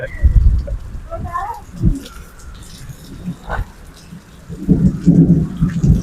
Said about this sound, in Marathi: अचानक भयानक पाऊस चालू होऊन गेला मित्रांनो